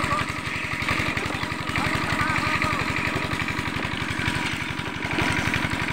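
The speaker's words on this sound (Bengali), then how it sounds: "এইভাবেই চলে যাচ্ছে মেশিনের মধ্য দিয়ে রস বের হচ্ছে।" A sugarcane juice extracting machine runs with a steady, loud motorized chugging as stalks are fed through its rollers, the rapid even pulse continuing throughout with voices faintly present underneath.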